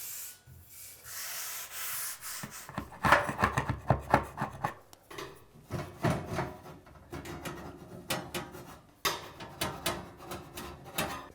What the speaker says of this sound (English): It'll just be easier to scrape these off before we clean.